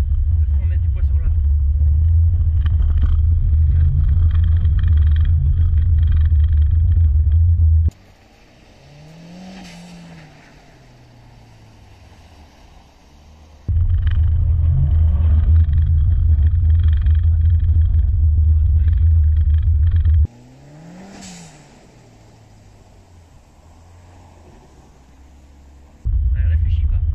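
A 300 hp four-wheel-drive Mitsubishi drifts on the snow circuit at Tignes. Loud, close engine roar runs in long bursts, broken by quieter gaps where the revs rise and fall, with voices at times.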